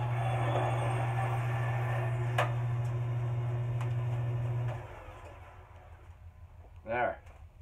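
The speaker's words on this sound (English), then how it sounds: "So all I do now is take the bandsaw. I'm going to clean that off right in the bandsaw." A bandsaw trims the excess off a hardwood wedge driven into an axe head, a steady loud whine and buzz running for about five seconds before cutting off, followed by a quieter workshop and a brief voice.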